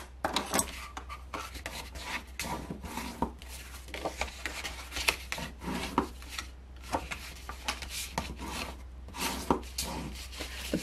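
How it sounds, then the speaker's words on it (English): A tool is rubbed firmly back and forth over scored lines on a paper milk carton during burnishing. Short scraping strokes repeat at an uneven rhythm, faint and close, with no voice. "let's burnish this up"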